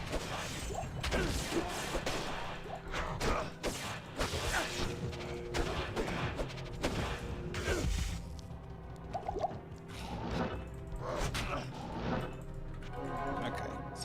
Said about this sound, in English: Dolls have a delayed explosion.